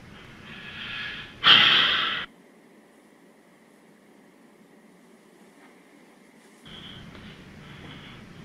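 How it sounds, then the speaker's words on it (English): A man's heavy, labored breathing during a police interview, a loud close exhale surge followed by quieter room tone, then another breath toward the end. "You're breathing kind of heavy, is it?"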